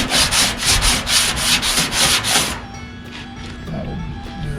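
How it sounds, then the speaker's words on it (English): A 1969 Dodge Charger quarter panel is hand-sanded at an angle, giving loud rhythmic rasping strokes for about two and a half seconds, then the scraping fades to a low background. "That's how you want to sand it"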